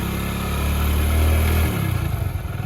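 Close motorcycle engine, ridden by a learner, revving up into a strong sustained drone that holds and then drops off, settling into a lower, uneven chugging as the revs fall, with no voices.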